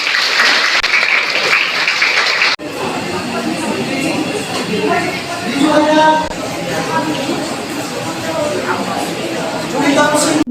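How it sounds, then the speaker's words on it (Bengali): Loud, sustained audience applause at a small prize-giving ceremony for students in an art gallery, with a sharp break near the start and steady clapping continuing throughout, mixed with some crowd murmur. "জোরে হাততালি হোক।"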